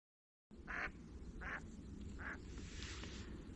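A wild duck quacking three times at a steady pace during a duck hunt, clear and fairly near over a constant outdoor background hiss, no talking.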